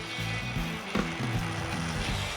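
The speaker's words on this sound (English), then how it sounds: "He's using a cordless drill, which I've seen him do it by hand, but the cordless drill is really fast." A cordless drill spins a tool against silver leaf to put a turned finish on it, giving a steady close mechanical whir with a rhythmic ratcheting, stepping pulse throughout.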